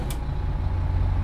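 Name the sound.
bus engine starting, from video game OMSI 2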